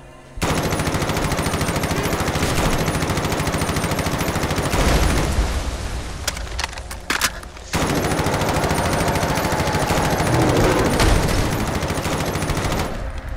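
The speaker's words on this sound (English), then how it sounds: "We're gonna see if we can take out Swan with the M4" An M4 rifle in the Fallout 4 video game fires long sustained automatic bursts, loud and continuous, broken by a brief pause before the shooting resumes.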